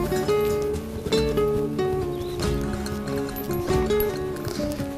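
Horse hooves during dressage schooling, a few soft irregular thuds of the gait under a steady tonal musical background, moderately loud and without talk.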